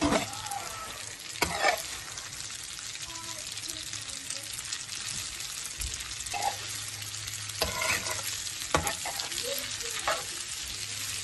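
Pasta for wok noodles fries in a pan with a continuous sizzle, punctuated by several scraping stirs of a utensil at close range.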